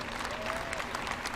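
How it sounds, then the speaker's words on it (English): Steady applause from an audience at an E3 2018 game press conference, a dense wash of clapping that holds at an even level throughout, with no voices rising above it. "Let's give them all a round of applause."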